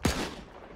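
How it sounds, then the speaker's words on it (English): A sharp burst of gunfire from the video game Arma III, close and loud, with a short decaying tail. "What are you guys shooting at?"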